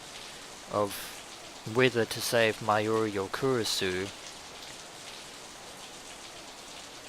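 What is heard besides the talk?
rain falling, from the video game Steins;Gate 0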